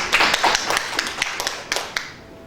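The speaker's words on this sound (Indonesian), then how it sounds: "tepuk tangan buat Tuhan" A church congregation claps for God during a service, a short burst of brisk, uneven hand claps that fade out within a couple of seconds.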